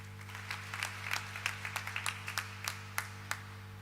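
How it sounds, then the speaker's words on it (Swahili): A church congregation at a Sunday Kikuyu service claps in loose, uneven bursts, individual hand claps standing out over a steady low electrical hum. "Tuwapigie makofi tena"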